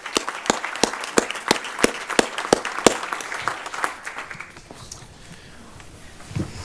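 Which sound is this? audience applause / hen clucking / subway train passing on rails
audience applause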